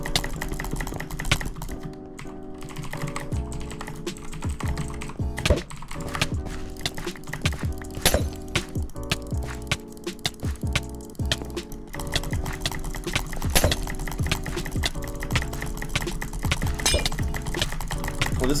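Rapid computer keyboard typing runs steadily for the whole stretch, with dense, clattering keystrokes close to the microphone and no speech.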